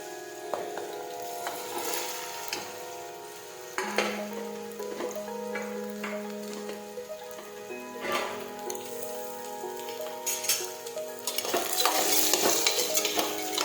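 Mustard seeds and cumin crackle in hot oil before chopped ridge gourd goes in for a Gujarati turiya shaak, a light popping sizzle with stirring clinks and a brief tonal ring, close, growing busier toward the end, no talk.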